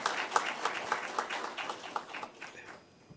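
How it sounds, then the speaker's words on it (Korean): A church congregation claps to welcome middle and high school students at a morning worship service, light, moderately paced applause with audible individual claps, brief and fairly quiet. "인사 나눌 때 우리 박수로 환영하겠습니다"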